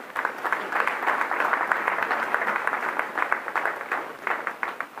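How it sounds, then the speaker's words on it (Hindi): An audience at a Diwali festival gathering claps steadily for several seconds, a dense, continuous round of applause from a large crowd with no talking over it. "अरे अपने लिए तालियां बजा दो।"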